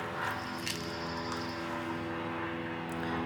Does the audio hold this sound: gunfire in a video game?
no